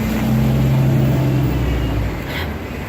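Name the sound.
car turning in near the speaker on a street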